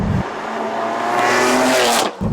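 A tuned 700hp BMW G87 M2 accelerating hard, engine note climbing steadily through the revs as boost builds, loud and close with a rising whine before the throttle lifts near the end.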